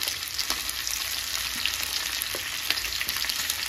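Cumin, chana dal and straight-cut ivy gourd pieces fry in a pan, giving a steady close crackling sizzle throughout with faint clinks of stirring, and no voices.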